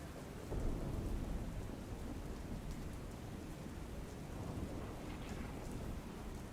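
Steady rain pours down in a constant wash of noise over Dhoraji, Gujarat, with a low rumble of thunder underneath.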